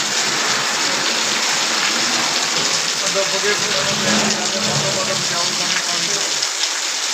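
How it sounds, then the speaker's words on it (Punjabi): Heavy rain pours down at a gurdwara, a dense, steady roar of water with a constant hiss and no break across the whole stretch. "ਬਹੁਤ ਜ਼ਿਆਦੇ ਮੀਂਹ ਪੈ ਰਿਹਾ ਇਸ ਟਾਈਮ ਇੱਥੇ"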